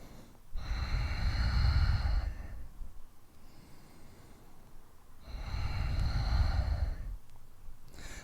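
Heavy, drawn-out breaths during a yoga wheel core workout, each long exhale rising loud and close, two cycles separated by a quieter pause.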